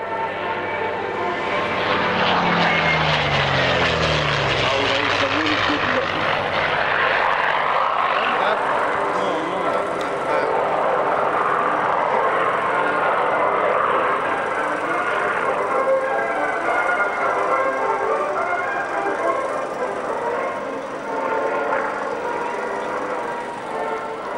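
Aerobatic aircraft at the North Weald Airshow give a loud, sustained engine roar that sweeps downward in pitch early on, then holds as a broad, steady drone for the rest of the pass.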